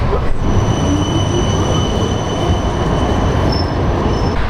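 Historic old rack railway tram in Budapest rolling along, a loud, steady close rumble with high metallic wheel squeal ringing over it throughout.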